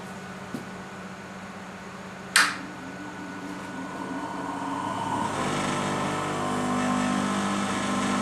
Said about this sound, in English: I will just fire up the bench grinder again so you can see the ammeter moving